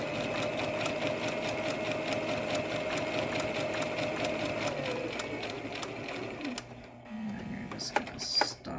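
Sewing machine stitching a cable-tie reinforced face mask along a quarter-inch seam allowance: a steady, close mechanical whirring hum for about six seconds that slows and stops, followed by soft handling clicks and rustles.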